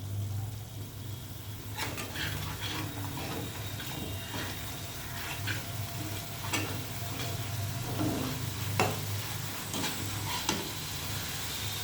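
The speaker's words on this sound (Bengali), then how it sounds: "মশলাটা এবার কষিয়ে নেব। এটা একটু জোরে দিয়ে দেবো গ্যাসটা।" Spice masala being sautéed in a pan over a high gas flame, with a steady sizzle and hiss under a low burner rumble, broken by repeated scraping stirs of a spoon against the pan, close and continuous.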